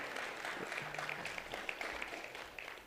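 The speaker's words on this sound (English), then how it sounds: "Can we give them a round of applause, please?" Banquet guests applaud the speaker's parents at an annual Ramadan iftar dinner, a soft, steady patter of many hands, fairly distant and faint, with a brief low hum partway through.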